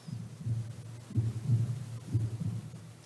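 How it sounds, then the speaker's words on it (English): Steady heartbeat in soft, muffled low thumps, falling in paired beats at an even pace with nothing else over it. "you can actually hear the heartbeat"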